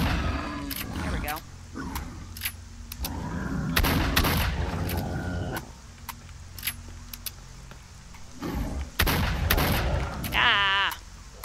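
Gunshots ring out in bursts as a player hunts mutants in S.T.A.L.K.E.R.: Shadow of Chernobyl, sharp cracks scattered across the clip with gaps between volleys, mixed with game noises and a person talking.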